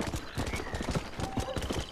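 Horse hooves clip-clop steadily in Red Dead Redemption, a quick rhythmic run of close, crisp hoof strikes over faint outdoor ambience, with a soft voice murmuring underneath.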